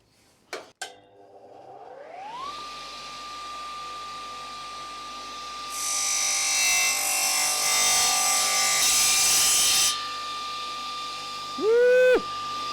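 A table saw spins up with a rising whine to a steady pitch, then bites into wood for paralettes with a loud, rough cutting roar for several seconds before winding down with a short final burst.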